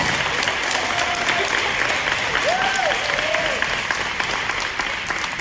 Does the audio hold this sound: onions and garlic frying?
no